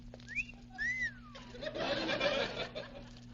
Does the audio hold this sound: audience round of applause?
no